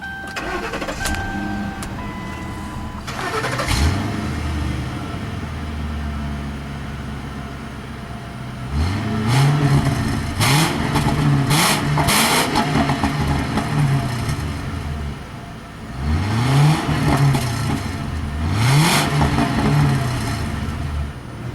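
A 2011 Ford Crown Victoria's 4.6 liter modular V8 cranks briefly, catches and settles into a rumbling idle, then is revved several times in short bursts, close by.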